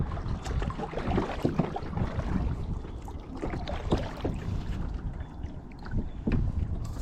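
Kayak paddling on the water at Mojave Narrows, California, during a windy day, with steady wind buffeting and splashy water noise close to the microphone.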